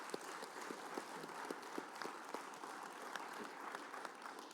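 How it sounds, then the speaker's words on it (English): Audience applause after a university debate on climate science, a steady wash of many hands clapping throughout, fairly distant and even in level. "Let's give another round of applause to our debaters and our moderator"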